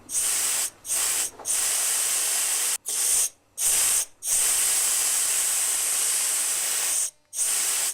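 An aerosol paint spray can hisses in long bursts, loud and close, with several short pauses between sprays and no talking.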